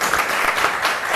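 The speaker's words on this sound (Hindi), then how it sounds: "भरपूर तालियां।" A studio audience on a Pakistani cricket talk show breaks into a brief, loud burst of clapping, a dense even wash of hands with no voices over it.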